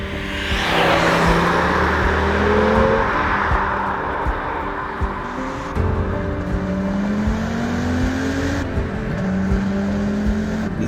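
An Audi Sport Quattro driving on urban streets, its engine close and loud, revving up through rising tones with gear changes and easing off between pulls, no speech over it.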